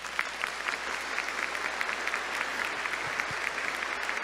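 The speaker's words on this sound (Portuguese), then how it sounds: "Se você crê, aplauda Jesus." Steady clapping from a congregation during a thanksgiving Mass homily, a moderate continuous patter of many hands that carries on evenly throughout.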